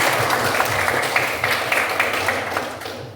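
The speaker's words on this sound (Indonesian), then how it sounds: "Kita kasih tepuk tangan untuk Aisyah." A school class applauds a student group in an Indonesian classroom lesson: a steady, dense patter of many hands clapping together, moderately loud and sustained throughout without a break.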